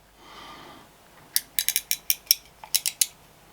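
After a soft rustle, a quick run of about a dozen crisp metallic clicks follows as a small aluminium-alloy card wallet mechanism snaps through its motion, close and bright.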